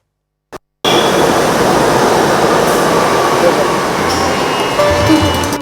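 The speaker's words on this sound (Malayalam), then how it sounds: "കുതിച്ചു പായുന്ന മെട്രോ" After a brief click and moment of silence, a loud rumbling roar of a Kochi Metro train speeding past, heard from a fifth-floor rooftop, sets in and holds steady, with faint squeals.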